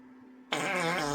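A loud, buzzy fart sound effect bursts in abruptly after a brief quiet lead-in and holds for about three-quarters of a second, wavering slightly in pitch before ending.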